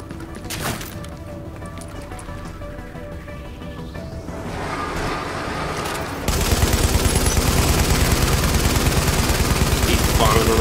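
Enemy gunfire in the shooter game The Division, rapid automatic bursts that build into a loud, dense, continuous barrage in the latter half, with a voice speaking beneath.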